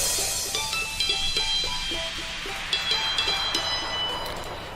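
Piano notes run through a high-pass filter that was left switched on, sounding thin, weak and washed out, with a scattered melody of high tones over a faint noisy wash and no voices.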